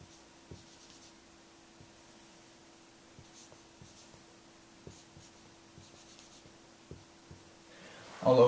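A pen writes a ratio on paper, giving faint scratchy strokes and soft taps at an uneven pace in a quiet room, with a louder rustle at the very end.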